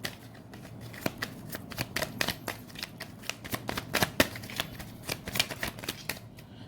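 Tarot cards are shuffled by hand, producing a near, continuous crisp riffling with scattered sharp flicks and slaps over several seconds and no voice over it.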